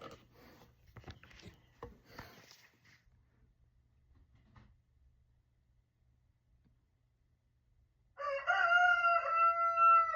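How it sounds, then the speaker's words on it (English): A backyard rooster crows loudly near the end, a long harmonic cock-a-doodle-doo after several seconds of quiet, faint rustling. "My rooster's out there right now."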